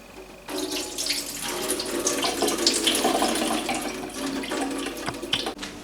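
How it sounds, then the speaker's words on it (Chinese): Water pours and splashes steadily from soaked orange peel being drained, a close, continuous rushing flow like a running tap, ending with a few light clinks. "我这个橙皮浸泡了1夜，沥干水分。"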